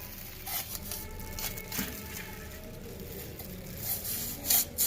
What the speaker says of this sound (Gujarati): તો આપણે રતારુના ખમણીથી છીણી નાખીએ